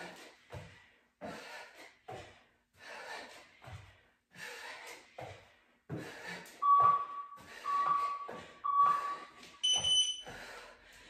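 A workout interval timer beeps in a quick home HIIT circuit: three steady mid-pitched beeps in a row, then a higher final tone, heard over rhythmic heavy breathing and exertion.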